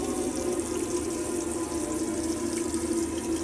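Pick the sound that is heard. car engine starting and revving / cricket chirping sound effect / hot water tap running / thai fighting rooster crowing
hot water tap running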